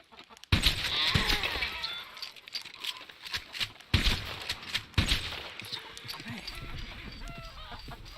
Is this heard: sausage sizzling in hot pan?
no